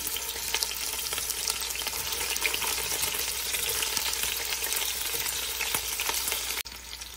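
Bitter gourd pieces frying in hot oil in a kadai, a loud, dense, continuous crackling sizzle close up that cuts off sharply near the end, no voices.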